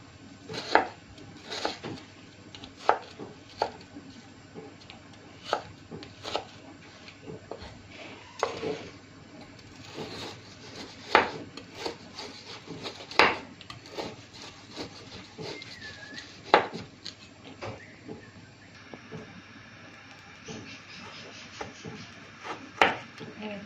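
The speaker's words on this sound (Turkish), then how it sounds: "Onları ince ince kıyıyorum." A knife strikes a cutting board, chopping frozen chicken finely for homemade chicken döner, in irregular, sharp chops, some heavier than others, with scraping and rubbing sounds between them, close up and moderately loud.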